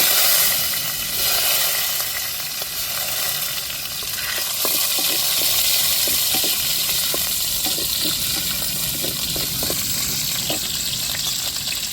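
Small shallots fry in hot oil with mustard seeds and fenugreek, a loud continuous hissing sizzle close by, peppered with sharp crackles and pops and no talk.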